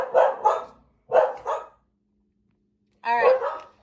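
A pet dog named Paisley barks indoors in short bursts, two pairs of barks and then a longer, more drawn-out bark after a pause, fairly close.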